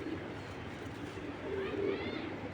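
A male giribaz pigeon coos softly in a low, rolling call that grows slightly louder toward the end, with faint room noise around it.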